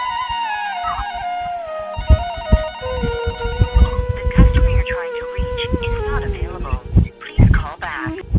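Repeated electronic telephone ring tones, two clear bursts of a bright warbling ringback, while a call goes out, with music and cheering from a singing talent show stage swelling in around and after them.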